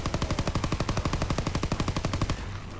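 Rapid automatic firing of a Tesla rifle in a zombies video game, a fast even stream of loud sharp shots that stops abruptly near the end, with no talk.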